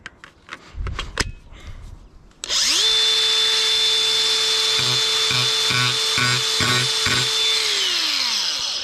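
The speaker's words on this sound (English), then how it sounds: "So that's the angle grinder." An angle grinder fitted with a metal-cutting blade: a few handling clicks, then the motor switches on into a loud, steady high whine with slight pulsing, and begins spinning down at the end.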